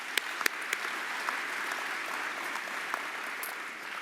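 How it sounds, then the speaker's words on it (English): An audience at a college athletics award ceremony applauds coaches, staff and faculty, a steady, moderately loud wash of clapping from a large room with a few sharper claps near the start. "So a round of applause to our coaches, staff,"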